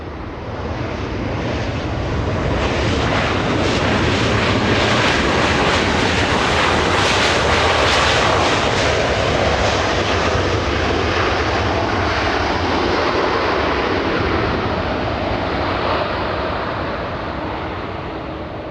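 A Qantas airliner climbs out after takeoff at Los Angeles International Airport, its jet engines a loud, broad roar that builds to a peak midway and then slowly fades as it pulls away, with no talking.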